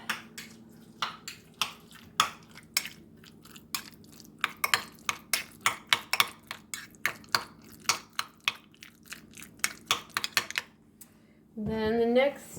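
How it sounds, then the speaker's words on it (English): Beans mashed in a pan for a squash, black bean and rice burrito, a series of soft, irregular taps and clinks from the masher against the pan, close and fairly quiet, ending in a brief louder rustle. "Mash this all up."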